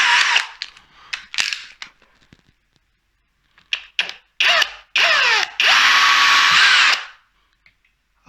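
Short bursts of a small power drill with a 2mm bit whirring, starting and stopping several times while fitting a door latch plate, ending in one longer steady drilling run before silence.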